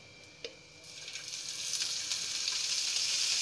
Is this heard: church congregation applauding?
no